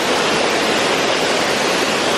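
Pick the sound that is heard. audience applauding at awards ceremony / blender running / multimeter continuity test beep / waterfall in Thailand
waterfall in Thailand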